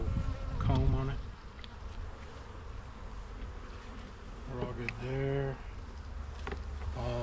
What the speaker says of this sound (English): All the bees are right here in the middle.